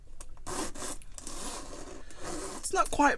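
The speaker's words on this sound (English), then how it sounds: "it has this double zip closure right here that meets right here in the middle. So let me just test the zipper." A handbag's double zipper rasps open and closed in a few short pulls, close by, with a quicker zip near the end.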